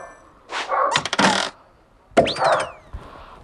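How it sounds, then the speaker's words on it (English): A dog barks in the background outdoors on a path with gates, giving a couple of short bursts of sharp barks separated by a pause, fairly close and moderately loud. "Excuse the dog starting to bark in the background."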